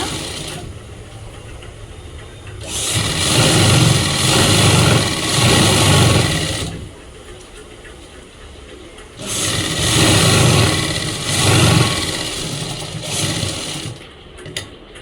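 A sewing machine stitches palazzo pants in two sustained mechanical runs of about four seconds each, separated by a short pause. The whirring is close and loud, and no one speaks.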